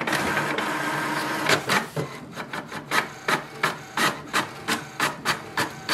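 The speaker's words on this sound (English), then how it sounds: "It will send a command for the printer to print a page." An HP Envy 6020e printer runs as it prints an information page, starting with a continuous whir and then settling into a rapid, regular series of mechanical pulses, close and alone.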